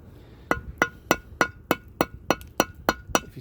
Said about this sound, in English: if you tap right along the edge where the brick is that meets that cement mix